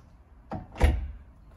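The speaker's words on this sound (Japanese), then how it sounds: "ドアを閉めましたら" A single solid thud as a new Panasonic Veritis Craft Label hinged interior door swings shut, preceded by a softer knock or latch sound, in a quiet room.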